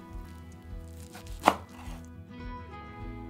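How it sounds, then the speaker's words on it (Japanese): A knife cutting cooled, squeezed greens into 4–5 cm pieces, a single crisp chop on a board heard over soft background music. "4-5cm 幅に切ったらボウルに入れます"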